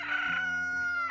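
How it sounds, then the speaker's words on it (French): An old farm rooster gives one clear, close cock-a-doodle-doo crow, rising and falling, with no talk. "Passant près d'une ferme, ils virent un vieux coq qui chantait."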